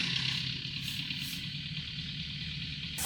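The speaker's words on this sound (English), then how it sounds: "Engine has just started back up." A BMW 4 Series engine idles steadily just after being restarted, a continuous mid-pitched hum with faint vibration at close range, with no talk over it.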